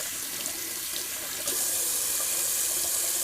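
Cold tap water runs steadily into a bathroom sink for rinsing the face after a shave, a continuous hissing splash that grows slightly louder partway through, with no talking.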